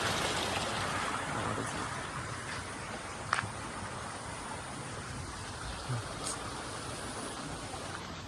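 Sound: small waterfall, flowing stream

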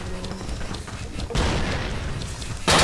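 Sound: cannon firing from a dinosaur's back, video game Dino D-Day

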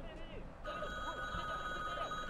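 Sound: telephone ringing in video game Angry Angry Dad

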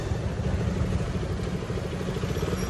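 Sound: motorcycles idling as the group arrives

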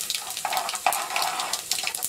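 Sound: cumin added to sizzling garlic in hot oil

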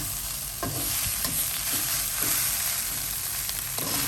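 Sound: stir-frying rice with salted fish

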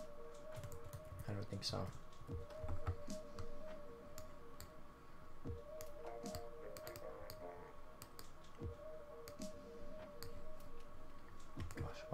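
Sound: computer keyboard keys being pressed

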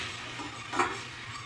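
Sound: whisking flour into melting butter to make a roux

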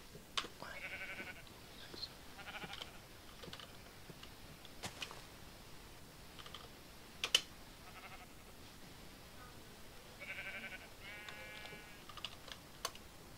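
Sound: typing on a computer keyboard

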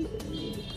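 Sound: pigeon cooing

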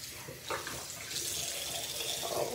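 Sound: rinsing a basketball shoe under running water

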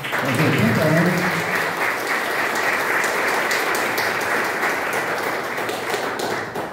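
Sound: audience applause for Seu Renato

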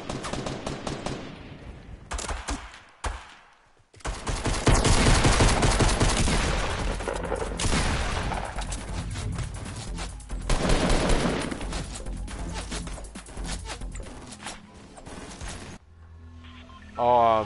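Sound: gunfight gunfire in the video game Fortnite

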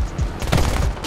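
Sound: short burst of aircraft gunfire in War Thunder video game

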